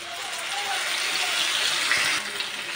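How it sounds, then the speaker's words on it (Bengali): Water from a freshly rinsed bowl is poured into a cooking pot holding potatoes and spice paste for a light rohu fish curry with tomato, a steady splashing gush running close and continuous for a few seconds. "বাটিটা ধুয়ে আমি একটু জল দিয়ে দিচ্ছি এখানে"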